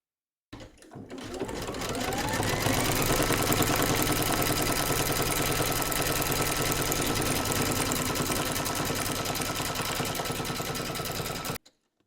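An embroidery sewing machine stitching a design in a hoop, starting abruptly and running at a fast, steady mechanical whir for about eleven seconds before stopping.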